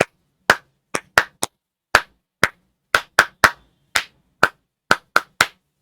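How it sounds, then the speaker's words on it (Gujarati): Classroom students clap in a quiet room, about fifteen sharp single claps in an uneven rhythm, close and crisp, with silence between them. "ઉભેરો 3 તાળી આવી રીતે મારી જેમ પાડજો"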